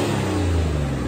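A Toyota LC300 engine revs through a 3.5-inch stainless steel DPF-back exhaust, giving a steady, loud, deep drone held close throughout with no voices.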